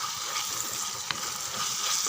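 Ground ginger garlic masala frying in a pan for eggplant thokku, a steady close sizzle with a brief sharp clink midway, no talk.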